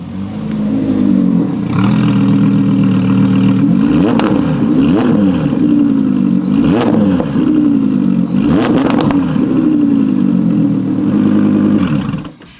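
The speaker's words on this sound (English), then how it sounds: "Getting a better taste of what this Audi R8 sounds like outside with that Capristo catback system" An Audi R8 fitted with a Capristo catback exhaust revs hard over and over outside, its loud engine note climbing and dropping in repeated sweeps, close to the listener.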